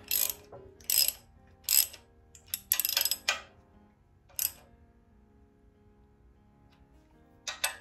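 Oil pan bolts on a Mopar small-block engine tightened with a ratchet, sparse short clicking bursts and metallic ticks close by, spaced with quiet gaps, no speech.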